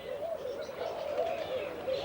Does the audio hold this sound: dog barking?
no